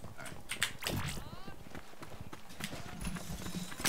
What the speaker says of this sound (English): I love those hoof sounds from the horses